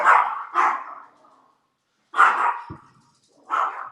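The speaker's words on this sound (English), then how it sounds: "that's our guard dog, making sure that nobody comes and steals our secrets" Guard dog barking in four loud, close bursts, two quick ones then a pause before two more spaced barks, with no talk over them.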